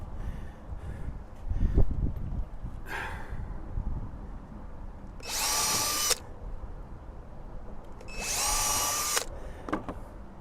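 A power drill drives screws into lumber while flower beds are built outdoors, with two loud whirring bursts of a few seconds each, close up, among lighter handling noises and breathing.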